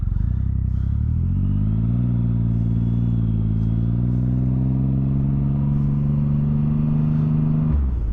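A 2013 Triumph Rocket III Touring motorcycle engine droning steadily while riding, its low tone rising as the bike accelerates and then holding a smooth, loud cruise throughout.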